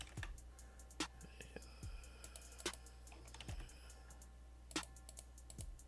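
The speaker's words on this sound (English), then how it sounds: "Just type this in his channel name." Keys tap on a computer keyboard as a channel name is typed, soft quick clicks in short irregular bursts with a few louder keystrokes, close and quiet with no voices.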